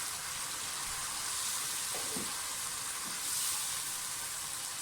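Marinated chicken cooks gently in a pan over a low flame, giving a soft, steady sizzle with a few faint stirring scrapes and no talking.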